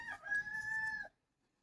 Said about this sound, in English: there's that said rooster again.